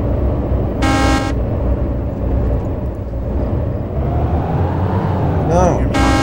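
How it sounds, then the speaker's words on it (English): A bus horn in the video game DayZ honks in two loud, sustained blasts near the start and end, with a brief horn-like tone between them, all over steady engine and road rumble and ongoing talk. "I'm spamming the horn right now."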